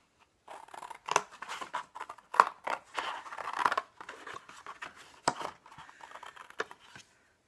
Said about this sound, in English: our scissors to cut our first cover for our book